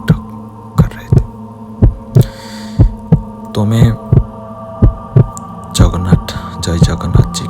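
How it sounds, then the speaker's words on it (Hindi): Fast heartbeat sound effect, loud and close, a steady run of deep thumping beats under a low droning hum, with a voice speaking briefly over it. "इधर दिल की धड़कन बहुत तेज टक टक कर रहे थे"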